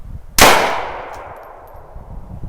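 An Umarex Big Blast reactive target cap bursts on a small bottle pressurized to 80 psi: a single sharp, loud bang with a bright clanging ring that decays over about a second and a half, with no talk.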